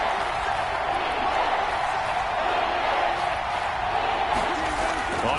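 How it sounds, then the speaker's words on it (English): A stadium crowd in a football video game roars in a steady, dense wall of noise, holding at a constant loud level throughout. "That just means this crowd's going to get even louder"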